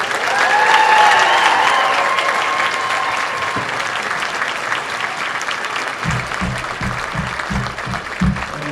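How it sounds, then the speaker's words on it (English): Sustained audience applause for a sixth grade band at a school band concert, filling the room, loud and steady before slowly easing off, with a faint low musical hum near the end. "Please keep your applause going for the 6th grade band."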